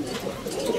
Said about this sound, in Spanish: esta palomita se me desbarató toda contra un cable